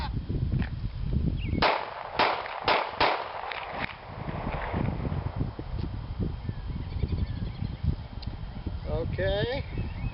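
A handgun drawn from a concealed-carry cross draw and fired one-handed, a quick burst of about five sharp close shots in rapid succession, with a voice talking before and after.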